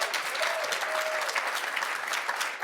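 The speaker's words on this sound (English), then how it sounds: "Let's have one more round of applause for them." Sustained audience applause at a university writer-in-residence program event, a dense steady wash of many hands clapping at even loudness throughout with a faint tone briefly audible underneath.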